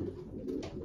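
Young racing pigeons coo softly in a loft, a brief low murmuring call close by.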